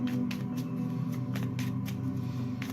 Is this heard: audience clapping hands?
no